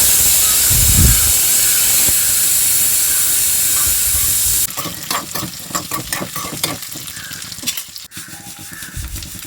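Onions sauté in a pan over a medium flame for tiffin sambar, giving a loud, continuous sizzle and hiss. Partway through, scraping stirring strokes and clinks break in, and no one speaks.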